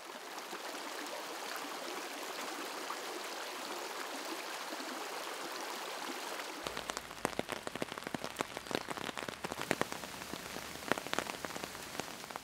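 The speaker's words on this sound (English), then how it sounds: "But it just continued to rain and rain and rain." Heavy rain pours steadily on a small Vermont town during a flood, a dense continuous hiss that turns into sharper, louder patter of drops striking surfaces partway through.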